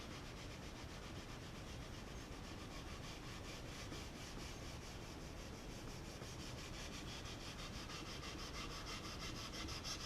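A large felt pad is rubbed back and forth over the finish of a Silvertone Companion guitar in steady, close, even strokes, giving a soft continuous rasping scrub with no talk.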